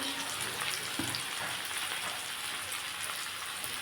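Spinach with cumin powder, chili powder, turmeric and salt sautéing in a pan, a continuous crackling sizzle close by with a faint scrape of stirring.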